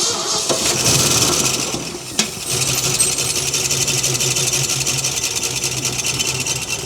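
A 1958 Ford F100 parked for 13 years cranks and catches, then idles roughly and unevenly in a loud, close, chugging drone with a sharp knock partway through.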